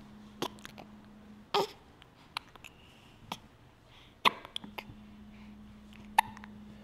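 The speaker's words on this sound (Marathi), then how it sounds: "त्रासली, उचकी येते" An irritated baby hiccups, giving sharp, isolated little hics at uneven intervals, close and quiet, with a faint low hum and small voice sounds between them.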